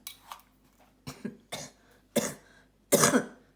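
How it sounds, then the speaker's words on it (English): Five sharp coughs, set off by the strong fumes of a garlic vinegar dipping sauce, close and fairly loud, spaced out with short pauses, the last ones strongest. "It's so strong, it's actually making me cough."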